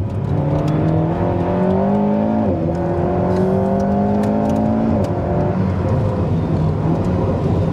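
An Alpine A110 R sports car in sport mode on Monte Carlo rally stage roads, its engine revving and climbing through gears with quick paddle shifts, loud and continuous from inside the cabin.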